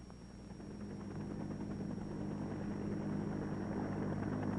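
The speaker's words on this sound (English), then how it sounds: "The UH-1A armed helicopter." A steady, droning rotor and engine roar of a UH-1A armed helicopter in flight, loud and continuous throughout, slowly growing a little louder.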